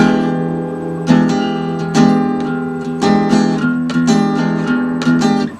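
Chords ring out on guitar in a repeating pattern of struck notes, each sharply attacked, loud and close, with the strings sustaining between hits.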